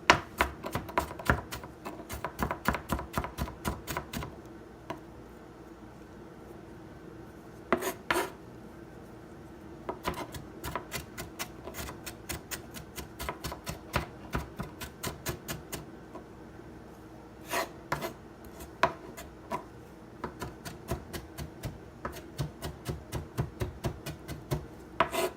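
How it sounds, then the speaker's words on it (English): A knife chops and minces herbs and garlic on a cutting board, giving rapid clusters of sharp taps broken by short pauses, up close and steady, with no voices. "And then just start chopping it."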